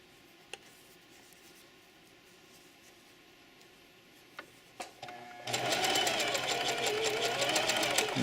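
A sewing machine stitches fabric for a small drawstring bag, quiet at first with a few faint clicks, then running in a fast, steady, loud whir for the last few seconds.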